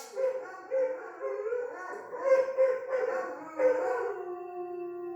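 Several pet dogs howl together in a drawn-out, wavering chorus, rising and falling over about five seconds, close by and fairly loud with no talking over it.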